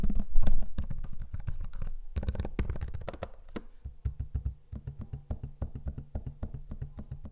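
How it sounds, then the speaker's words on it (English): Fingers type on a Lenovo Legion 9i laptop keyboard in quick clattering bursts, close and crisp, followed by softer rhythmic taps and clicks on the trackpad. "Here's an audio sample of me using both the keyboard and trackpad so you can hear for yourself what they sound like."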